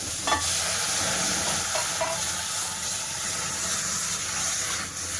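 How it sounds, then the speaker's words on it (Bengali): Cow's milk hits roasted rice flour in a hot pan, giving a steady, close hiss and sizzle with faint stirring throughout and no voices. "এবার আমি ওর মধ্যে পাঁচখানের গরুর দুধ দিয়ে দেবো"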